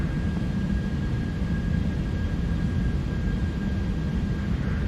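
Airbus A319 airliner in Delta livery taking off in a flight simulator, a steady, loud broadband engine roar with a thin high whine running throughout, constant and unbroken.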